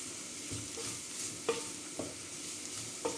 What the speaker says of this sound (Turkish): Malzemelerimin hepsini güzelce kavuruyorum.